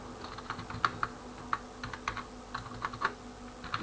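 Quiet, steady typing on a computer keyboard, light key taps in an irregular but continuous rhythm, close by over a faint background hum, with no one speaking.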